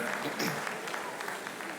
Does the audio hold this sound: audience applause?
yes